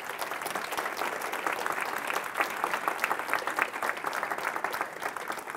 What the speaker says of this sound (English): So give John a round of applause.